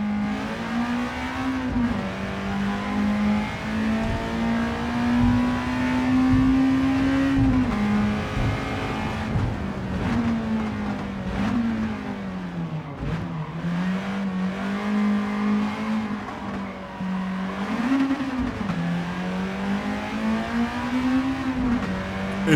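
A Honda race car engine in Gran Turismo 7, with ABS switched off, revs loud and high toward ten thousand RPM, its pitch climbing and dipping through gear changes in a continuous close roar.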